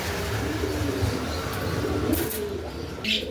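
Pigeons cooing softly at a home pigeon farm: faint, low repeated coos over a dull background hum, with a brief chirp near the end.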